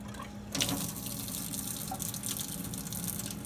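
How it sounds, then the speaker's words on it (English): Water rushes steadily from a tap after a short quiet start, filling a countertop water filter housing, a continuous broadband hiss of flowing water, moderately loud and close. "turn the water on. We want the housing to fill."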